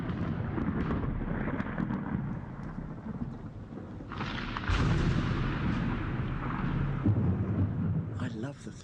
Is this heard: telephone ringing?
no